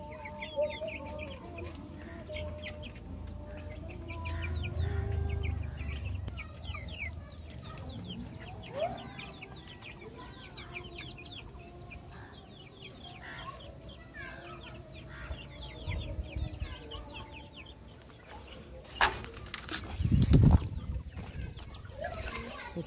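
Backyard chickens cluck steadily at close range while being fed, with a few louder calls near the end and occasional talking underneath.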